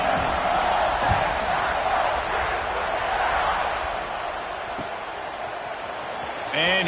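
A football stadium crowd roars in a steady, loud, sustained wash before a kickoff in a Miami vs Ohio State game, with a swell at the end.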